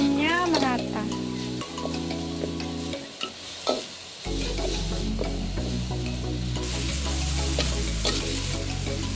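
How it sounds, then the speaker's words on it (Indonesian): Ground spice paste sautéing with lime leaves, lemongrass, galangal and bay leaves for Flores fish rice, a steady frying sizzle with stirring, accompanied by a tonal melody throughout and a brief quieter gap midway. "Bumbu yang dihaluskan kita mulai tumis, dicampur dengan daun jeruk, serai, lengkuas, dan daun salam."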